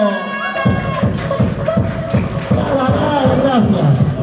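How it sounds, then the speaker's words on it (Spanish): A crowd at a children's party claps in a steady rhythm, loud and close, while voices carry on over the applause. "¡Fuerte los aplausos!"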